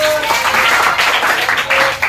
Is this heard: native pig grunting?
no